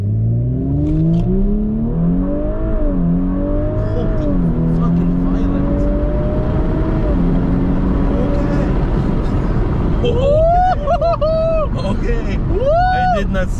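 A tuned Audi B9 S4 with a Unitronic Stage 1+ tune, about 454 hp, launches from a standstill using launch control, its engine note climbing through rapid gear shifts as it accelerates hard, heard from inside the car while people talk over it.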